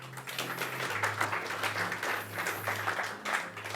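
Audience applauding at a live mentalist and psychic stage show in Montpellier, a dense steady wash of many clapping hands sustained throughout at an even level.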